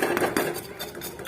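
Metal spoon clinking and scraping against a pan while stirring jaggery as it melts with water, a few quick close taps and scrapes at a moderate level, with nobody speaking.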